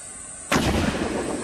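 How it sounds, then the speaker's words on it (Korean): A hand grenade bursts during military cadet grenade-throwing training, one sudden heavy boom that rolls into a sustained rumbling roar, loud and fairly close, with no talking. "여후보생들이 가장 두려워하는 수류탄 던지기"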